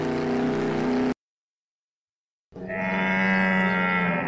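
Camel grunting: a short low groan, then a brief silence, then a longer, louder rumbling bellow with a rough, rising tone, alone with no talk.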